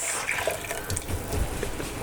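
Chicken broth made from Knorr bouillon pours steadily into a cooking pot for borscht, a continuous close splashing trickle of liquid lasting about two seconds with no talking.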